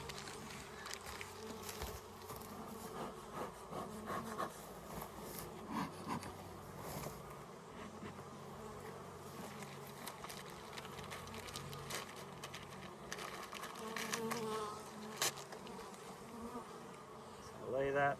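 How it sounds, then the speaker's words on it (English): A dense, steady buzzing of many honey bees swarming close around a hive, continuous throughout with faint handling noises mixed in. "Get those bees to go down again."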